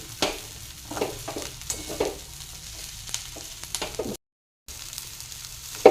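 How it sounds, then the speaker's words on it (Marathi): Grated dried-potato fasting khichdi with coriander being stirred and sautéed in a pan over a low flame, giving soft steady sizzling with scraping stir strokes and a short dropout near the end. "पाच मिनटं मंद आचेवर आपल्याला परतून घ्यायची खिचडी"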